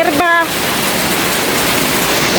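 Heavy rain pours down in Davao City, a dense, loud and steady hiss. A brief voice can be heard at the very start.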